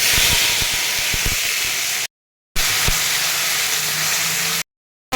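Potatoes and whole spices (bay leaf, dried red chilies, five-spice seeds) sizzle in oil in a kadai as green chili and ginger paste go in. The loud, dense hiss and spatter breaks off abruptly twice.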